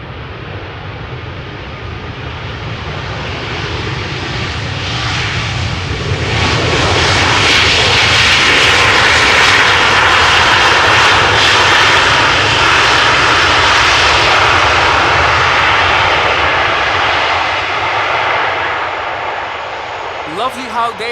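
A brand new Ryanair Boeing 737 MAX 8 lands at Amsterdam Schiphol in warm weather, its engine roar swelling into a loud, sustained rush as the thrust reversers deploy, then easing off near the end, with a voice talking underneath.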